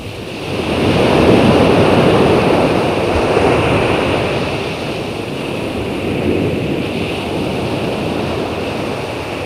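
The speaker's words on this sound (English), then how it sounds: "Waves pounding the Marine Drive, attracting people from far and wide to gaze in awe at the mountainous, towering waves flooding the roadway." Huge winter waves crash over Scarborough's Marine Drive sea front road, a loud continuous roar of surf and spray surging and easing, mixed with heavy wind buffeting the microphone.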